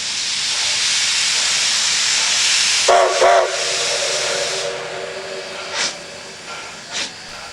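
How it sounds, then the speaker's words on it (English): Steam locomotive No. 3 on the Niles Canyon Railway slowing down, with a loud, continuous hiss of escaping steam, two short whistle blasts close together, and a few fainter steam bursts afterward. No talking. "The train begins to slow down in preparation to let people off for the second photo run-by at Falling"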